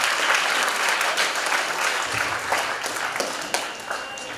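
Enthusiastic crowd applause at a Bhagavad Gita society's 8th anniversary gathering, loud and continuous, with a few sharper individual claps near the end as it begins to thin.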